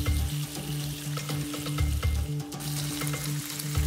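Hot oil sizzles loudly in a frying pan, a dense, continuous crackle with a low hum underneath and no speech.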